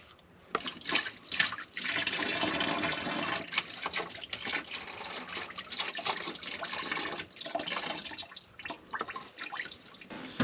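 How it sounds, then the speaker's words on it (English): Coolant drains from a hose on a 2011-2014 Ford F150 5.0 into a bucket, a steady splashing, gurgling pour that runs for several seconds, close and fairly loud with brief uneven bursts. "This hose is full of coolant, so we're going to need to drain it into the bucket"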